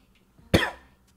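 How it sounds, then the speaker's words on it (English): A single sharp throat clearing from a person, one brief harsh burst close to the mic, surrounded by near silence. "I have to clear my throat over all this so I can not get copyright struck"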